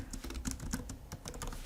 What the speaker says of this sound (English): Why am I typing it if I'm going to use any?